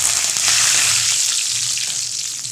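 Fenugreek, mustard seeds and curry leaves crackle in hot oil while being tempered for tomato kuzhambu, giving a loud, steady, close-up sizzle that fills the whole stretch with no talking.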